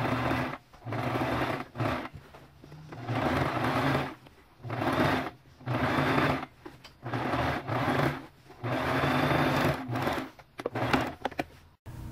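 A sewing machine stitches a seam through old denim jeans fabric, running in repeated bursts of steady mechanical whirring with short pauses between runs, close and clear with no talking.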